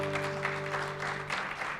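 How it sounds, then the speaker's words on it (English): Audience applause fills a hall at a community event. It comes as a short, faint patter of clapping with a steady low hum beneath it. "So give them a nice round of applause."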